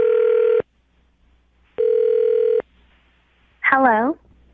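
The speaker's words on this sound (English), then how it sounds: "I'm going to dial her phone number right now" Telephone keypad tones beep twice in sustained bursts, followed by a short warbling electronic tone, with silence between them.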